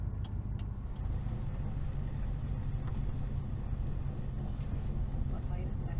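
A 1976 Dodge Dart Sport being driven, its engine a steady low rumble with road noise, constant and fairly close throughout, with some talk over it.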